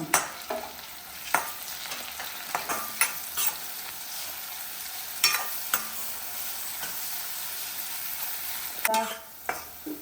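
Onions sauté in a pan for Kerala-style wedding sambar, a soft steady sizzle broken by repeated spoon scrapes and stirring clacks at close range, with no talking.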